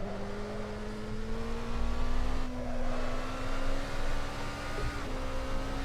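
Mazda MX-5 race cars lap Spa in a racing video game. A steady engine drone holds under a rising tonal whine that dips once midway. It stays fairly quiet and even, with no voices.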